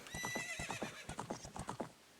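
A horse from the video game Ocarina of Time neighs in a shrill, wavering whinny over quick rhythmic clip-clop hoofbeats that carry on in short bursts.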